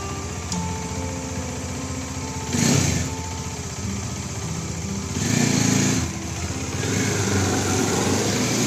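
A Bajaj Dominar 400 motorcycle engine runs steadily during a test ride, a constant buzzing drone that swells briefly twice as it passes or revs, heard alone at moderate distance.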